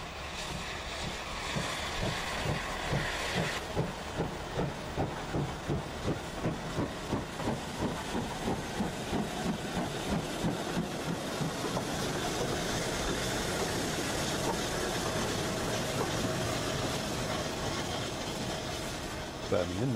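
Steam locomotive Rood Ashton Hall works along a rail line near Birmingham, a rhythmic chuffing exhaust beat that steadily quickens, with hissing steam, and a narrator talks over it.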